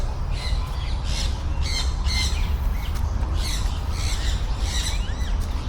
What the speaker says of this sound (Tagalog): Parrot? Is it a parrot or no?